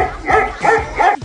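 A dog gives three quick, close, loud barks in an even rhythm, each a short sharp yap.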